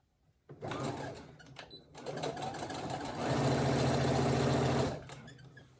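Brother SE1900 sewing machine top stitching a pouch, whirring close and loud for about four seconds, speeding up in the second half, then stopping.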